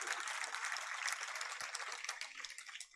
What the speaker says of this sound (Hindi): इस पर ताली इतनी धीरे से बजाइए आप लोगों ने जैसे